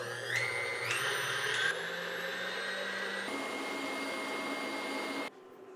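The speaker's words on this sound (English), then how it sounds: "I'm going to turn my stand mixer all the way over to a 10 and let that do its job" A stand mixer whips egg whites for old-fashioned divinity candy at its top speed of 10, a steady high whirring motor whine that steps up in pitch, close and loud, then cuts out abruptly near the end.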